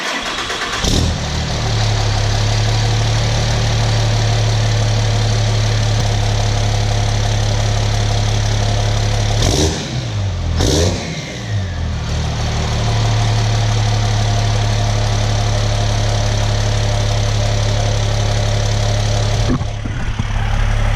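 A 6.7 Cummins diesel race truck engine fires up and settles into a loud, steady, rumbling idle close by, with a brief revving dip partway through before the idle resumes.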